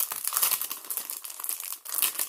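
Vintage teal recipe cards are pulled from their packaging, with close, continuous crinkling and rustling of plastic and paper, a brief pause, then more crinkling.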